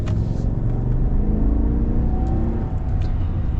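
A 2021 GMC Sierra 1500 Elevation X31 pickup with a 5.3 V8 accelerates, its engine droning loudly and steadily from inside the cab with a rising low rumble and whirring drivetrain tone.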